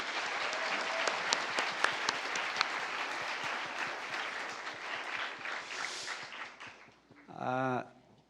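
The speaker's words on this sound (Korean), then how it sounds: "다 같이 한번 우리 참여하신 학생들에게 박수 한번 해주세요" An audience at a student mock-trial competition claps for the participating students, a dense and steady round of applause that fades out near the end, followed by a brief voice.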